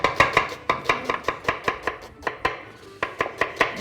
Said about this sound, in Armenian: Սոխը ես կտրատեմ։